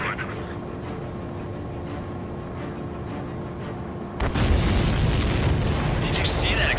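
A supply ship blows up in the video game Ace Combat 7, a sudden loud, roaring blast that cuts in over steady engine drone and swells into a broad, rumbling burst that carries on for a couple of seconds.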